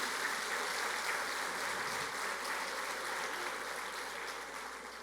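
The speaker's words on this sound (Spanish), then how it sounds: "Aplauden el nombre de Jesús" A congregation applauding during a church service, sustained, even clapping that fills the room and fades slightly toward the end.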